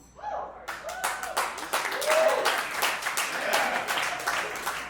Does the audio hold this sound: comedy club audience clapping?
yes